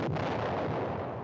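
Stock footage explosions in a film: a dense, continuous roar of blasts and booms that starts suddenly and stays loud for the whole short stretch, with no voices.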